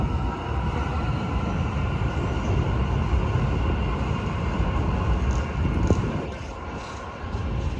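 A metro train rumbles steadily across a river bridge, a broad continuous roar of wheels and track noise that stays loud and even throughout, with no voices.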